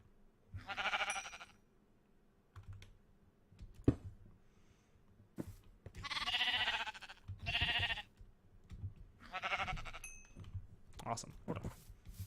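Sheep in Minecraft bleat in short, repeated bursts, several separate calls spread across the stretch, with soft clicks between them and quiet stretches in the gaps.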